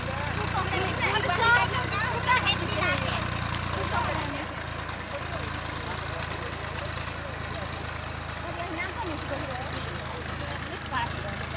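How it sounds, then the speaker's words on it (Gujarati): A tractor engine runs in a paddy field during rice transplanting, a steady low, rumbling idle that drops slightly in level partway through, with voices faintly in the background. "આ ટ્રેક્ટર ચાલે છે"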